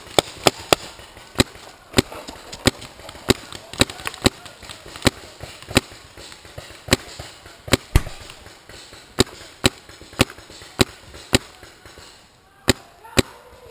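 Cover fire from a paintball or airsoft gun rings out as about twenty sharp, close cracks in a steady rhythm. The shots pause briefly near the end, with faint voices in the background.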